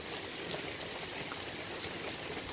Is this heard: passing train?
no